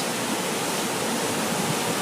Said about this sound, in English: it looks like teeth that the water goes over